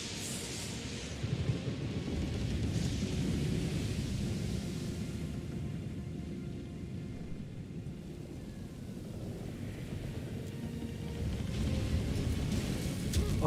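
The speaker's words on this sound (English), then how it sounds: "Storm's picking up! Take cover!" Storm ambience in the sea-faring fantasy RPG Pillars of Eternity II: Deadfire: steady heavy rain with deep rolling thunder rumbling throughout and swelling louder toward the end.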